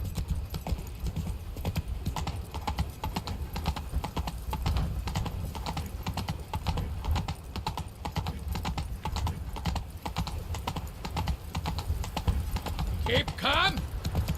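Roach, the horse in The Witcher 3, gallops with a fast, rhythmic drumming of hooves that runs throughout, joined near the end by a short neigh, with voices talking over the hoofbeats.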